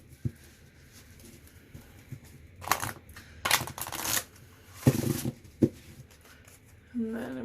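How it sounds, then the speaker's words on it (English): Stiff oracle cards riffled and shuffled in several bursts, with soft rustling and a few sharp slaps between, close by and fairly loud. "And then I'm going to shuffle this way."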